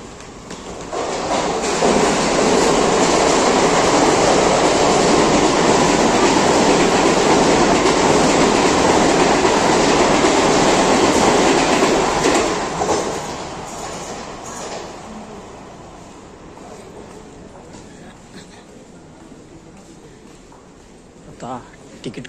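A train passes at Kandivali railway station in Mumbai with a loud, close, sustained rumble and rattle for about twelve seconds, then fades to a softer background hum.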